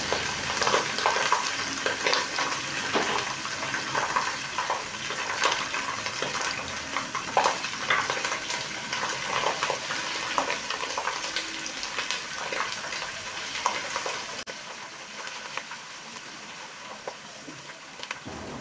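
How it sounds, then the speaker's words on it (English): Tomato paste frying in a pot for cucumber stew, a busy crackling sizzle with repeated stirring scrapes, loud and steady, then easing slightly near the end; no talking. "I needed to stir it continuously to avoid it burning."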